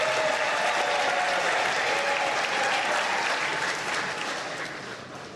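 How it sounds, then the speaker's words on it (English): A crowd at a formal presidential announcement ceremony gives the Chief Justice a round of applause, dense sustained clapping from many people that holds steady and then begins to taper off. "I think Chief Justice deserves another round of applause, please."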